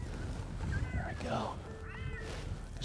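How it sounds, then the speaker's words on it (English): An electronic predator call plays a cat sound while hunting coyotes in Nebraska: faint wavering meows drift over a steady outdoor background, with people talking quietly underneath. "I finally go to a sound out of a cat folder called Kitty Kitty"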